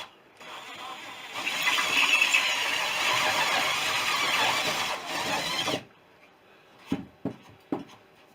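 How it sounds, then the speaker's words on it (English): A drill bores a hole through a wing part, a loud steady whir that runs about five seconds before cutting off, followed by a few short knocks and clicks. "I'm going to bore the hole through"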